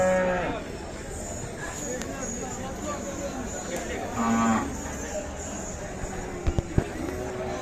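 Khillar cattle low repeatedly amid a noisy crowd at a livestock market in Sangola, with people talking throughout and occasional sharp knocks near the end.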